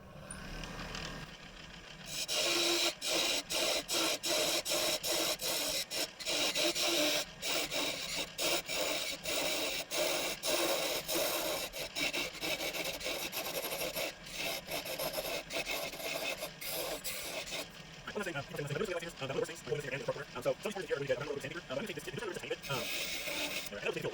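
Sandpaper rasps against a spinning wooden lightsaber handle on a woodturning lathe, a steady close scratchy friction with rhythmic strokes over the lathe's hum.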